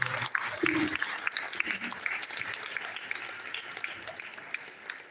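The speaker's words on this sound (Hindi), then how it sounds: "तालियां हिमांशु भाई को।" An audience at a Hindi comedy poetry gathering in a Jain hall claps loudly for a performer named Himanshu, a dense continuous wash of applause with faint voices underneath.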